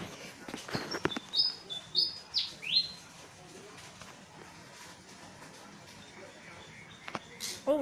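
An angry bird in Thailand shrieks and chirps in short sharp bursts while attacking a black cat, fairly close, with a voice heard faintly at moments.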